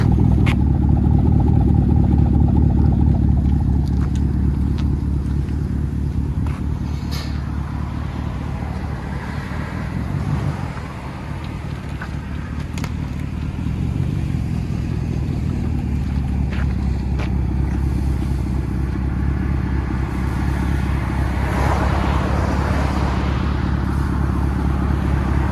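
A 2011 Chevy Camaro SS convertible's 6.2L V8 idles through true dual straight pipes with the X-pipe deleted, a loud, steady, deep rumble that runs close and unbroken, dipping slightly midway.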